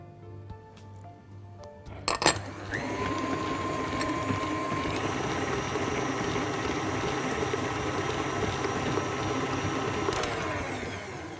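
Cooking oil poured into a bowl of cookie mixture, a steady liquid stream running for several seconds after a brief clink at the start, with a continuous hum in the background and no talking.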